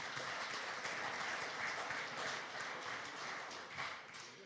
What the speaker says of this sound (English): So everybody give yourself a round of applause